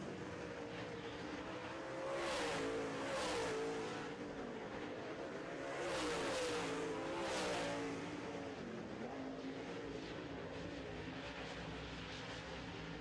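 Late model race cars roar past on a dirt or asphalt oval during a heat race, engines droning steadily with two louder swells as cars pass close, under a commentator's voice.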